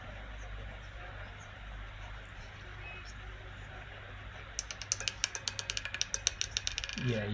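A roulette ball spinning around a roulette wheel, heard as a rapid series of rattling clicks that begins partway through, close and fairly faint, with low background noise before it.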